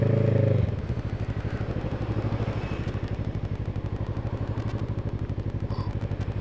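A motorcycle engine drones steadily while riding on roads in England toward the Lake District, with a rapid pulsing rhythm and wind rush, after a brief low rumble at the start.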